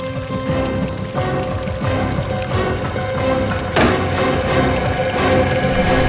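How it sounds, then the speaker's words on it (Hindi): Water pouring and trickling in a hotel room, a steady continuous wash with a sharper splash surge partway through, fairly close and loud. "पानी की आवाज।"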